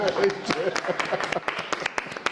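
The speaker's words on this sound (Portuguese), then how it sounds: "Os aplausos para a Lohane aí, gente." A few scattered claps from a small audience at a live talk show, sparse and uneven, mixed with the host's speech and crowd murmuring.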